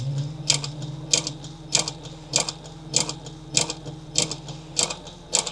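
Sewing machine stitching a clutch wallet at slow speed, giving a soft steady mechanical hum with evenly spaced rhythmic clicks roughly every half second, close and fairly quiet.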